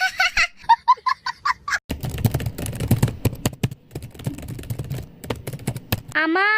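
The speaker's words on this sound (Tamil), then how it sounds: "அப்பா எவ்வளவு ஸ்பீடா டைப் பண்றாரு பாருமா" Fast typing on a computer keyboard, a dense run of quick clicking keystrokes at close range, with voices and a giggle briefly before and after.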